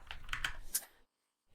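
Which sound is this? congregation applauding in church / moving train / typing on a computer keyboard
typing on a computer keyboard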